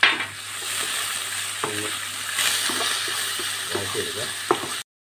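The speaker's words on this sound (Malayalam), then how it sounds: "കുറച്ച് കറിവേപ്പില, ലേശം ഉപ്പ് കൊടുത്ത് നമുക്കൊന്ന് വഴറ്റിയെടുക്കാം" Curry leaves and salt sautéed in a pan for tomato rice, a steady close sizzle and fry with a few stirring scrapes and clinks, no talk.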